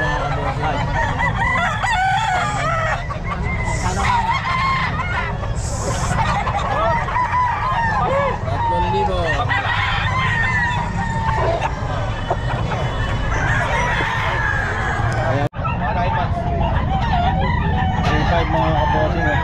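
Chickens and roosters at the crowded Bocaue pet market: many birds cluck and crow continuously, some near and some farther off, over a dense background of crowd noise and occasional voices.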